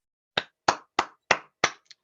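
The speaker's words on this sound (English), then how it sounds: "Cody applauds." Five crisp, evenly spaced claps, as a single person applauds alone in a quiet room. A faint sixth tap trails off at the end.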